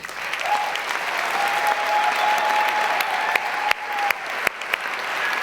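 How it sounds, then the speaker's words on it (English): Steady applause from an audience at a physics prize ceremony in Veldhoven, sustained and fairly loud throughout, with a few sharper claps and a faint whistle-like tone threading through. "let's give a round of applause to Said Rodriguez."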